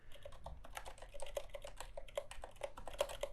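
Quiet, close-up typing on an ErgoDox EZ split keyboard fitted with domed Oblivion ASCII retro keycaps, a steady stream of soft clicky keystrokes with no voices.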